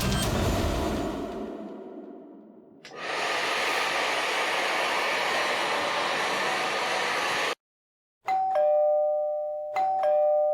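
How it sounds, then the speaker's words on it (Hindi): A doorbell chimes with a clear two-tone ring, sounding twice near the end, after a long steady roar of an air conditioner and hair dryer running indoors in a Crime Patrol crime-drama scene. "एसी और हेयर ड्रायर की आवाज के ऊपर भी बेल की आवाज साफ सुनाई दे रही है।"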